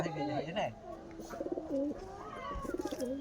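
Pigeons coo close by in soft, rolling repeated calls, with a voice talking quietly beneath them; some of the pigeons are sick.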